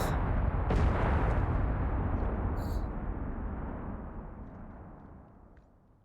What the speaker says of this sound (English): And you can hear all the explosions in the background.